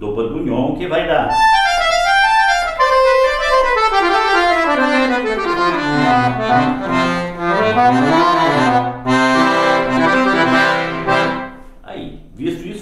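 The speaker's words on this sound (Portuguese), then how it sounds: "é o som do bandoneon que vai dar." Accordion with the bandoneon register engaged, in a lesson setting, sustaining reedy melodic lines and chords for about twelve seconds, loud and close, played alone without talk.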